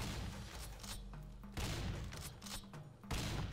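A shark firing bullets in Beast Battle Simulator, heard as short bursts of rapid game gunfire with dull thumps, three clustered volleys separated by brief gaps.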